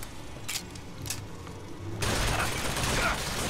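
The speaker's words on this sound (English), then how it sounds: "It's a turret!" An automated turret opens fire in BioShock Infinite: Burial at Sea, starting with a few mechanical clicks and faint shots, then breaking into a dense, loud stream of gunfire in the second half.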